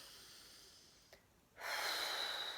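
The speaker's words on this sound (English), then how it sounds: "Healthy, deep breaths." A deep breath drawn in and released, alone and fairly quiet: a brief catch, then a sustained broadband exhale rising and holding near the close.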